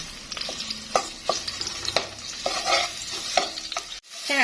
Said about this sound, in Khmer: យើងឆាម្ទេសខ្លោចនេះឲ្យឡើងប្រេងតិច